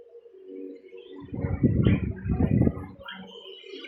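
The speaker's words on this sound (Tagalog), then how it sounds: "Ito yung mga alaga nating ibon." Pet birds awaiting hand-feeding give soft, low cooing and churring calls, close and fairly loud, in a brief throaty burst lasting a couple of seconds amid quiet background.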